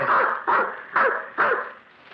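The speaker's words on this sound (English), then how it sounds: "I took with me Flush, a cocker spaniel he had entrusted to me" A cocker spaniel barks four times in a steady rhythm, each bark close, bright and clear, then falls silent in a radio drama scene.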